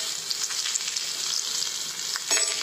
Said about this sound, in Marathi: आता ह्याच्यामध्ये कोथिंबीर टाकते. कोथिंबीर पण चांगली भाजून घ्या.